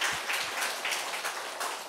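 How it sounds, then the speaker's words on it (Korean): A church congregation at a Sunday morning service applauds, a steady wash of many hands clapping together at moderate volume throughout. "우리 박수 한번 쳐주세요"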